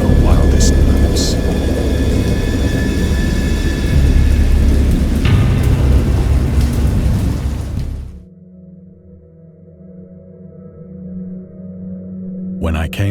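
A thunderstorm in a horror video game set at sea: loud rain roars and thunder rumbles for about eight seconds, then cuts to a low droning quiet before the storm swells again at the end.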